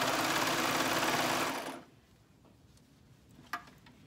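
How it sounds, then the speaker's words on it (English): A serger stitches a basic tee's sleeve into the armhole through two fabric layers, running as a loud, dense, steady whir that stops abruptly partway through, followed by near quiet and one small click. "the sleeve and the arm's eye that I'm serging through both layers right now"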